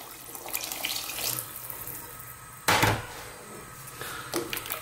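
Running water splashes and gurgles steadily, with a brief louder gush partway through, as water is poured into a pot of vegetable soup.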